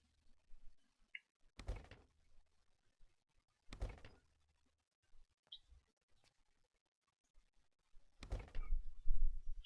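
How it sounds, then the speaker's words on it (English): Stairs being destroyed in the video game Project Zomboid: three sharp, hollow thuds spaced a couple of seconds apart, with quieter knocks and faint chirps in between against a low, quiet background. "And we're going to destroy these stairs here."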